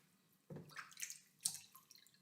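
Water is poured from a cup into a small egg cup in two short splashing trickles, close and quiet, with light dripping after each pour.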